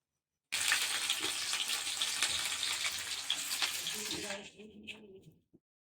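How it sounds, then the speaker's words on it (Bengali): Chopped onions drop into hot oil in a wok, setting off a loud, sudden hissing sizzle that holds steady for several seconds before fading, with a light clink at the end. "এদিকে কড়াই চাপি দিয়েছি কড়াই তেল দিয়ে দিলাম এবার দিয়ে দেবো পেঁয়াজ কুচিগুলো"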